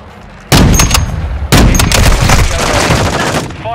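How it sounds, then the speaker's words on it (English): Dense, loud bursts of gunfire and blasts from a friendly airstrike in Call of Duty: Modern Warfare II's Shoot House headquarters match, starting abruptly, dropping out briefly, then resuming as a sustained barrage. "Friendly airstrike on the way."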